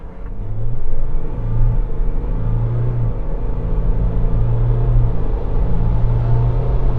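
A Volkswagen Amarok pickup truck accelerates hard from a standstill, its engine a loud, steady drone that climbs through the gears with brief dips at each shift, heard close from inside the cab with no talk.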